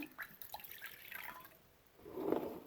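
Liquid poured slowly into a measuring container, about 200 millilitres at a time; a faint, close trickle with small drips, swelling into a steadier pour near the end, with no voices.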